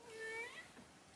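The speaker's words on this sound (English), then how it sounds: "He keeps meowing like that." A male cat meows indoors with a short, faint tonal call that rises and falls, heard alone against quiet room noise.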